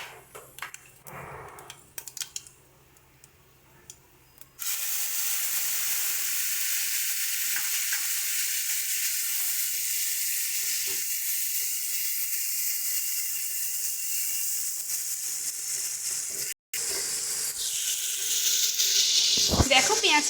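Onion paste added to hot oil with cumin, cloves, cardamom and cinnamon bursts into a loud, sustained sizzle after a quiet start, with a brief gap and stirring near the end.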